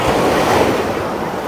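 Ocean waves break strongly on a beach where round basket boats sit, a loud continuous surf roar with wind rushing across the microphone and no voices.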